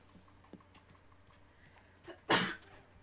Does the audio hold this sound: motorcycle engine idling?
no